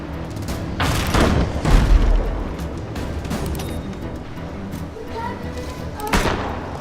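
Ship weapons in the naval combat game Abandon Ship fire as a few heavy booms, the strongest near the start and another toward the end, over a rumbling battle background.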